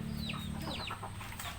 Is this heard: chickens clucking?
yes